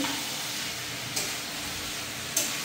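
Pumpkin sautéed in a pan with garlic, cumin powder, chilli powder and turmeric gives a steady, close, dense sizzle with no talking, broken by two brief clinks of stirring.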